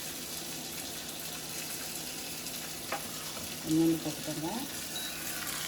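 Grated coconut sautéing in a pan for kozhukattai, heard as a continuous close sizzle with faint stirring scrapes, while someone speaks briefly partway through.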